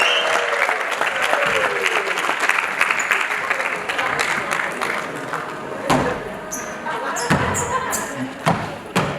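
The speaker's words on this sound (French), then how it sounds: "Applaudissements pour Wally." A live show audience applauds for Wally with dense, lively clapping. Scattered cheers and a few sharp thumps come through, and the clapping thins slightly partway before carrying on.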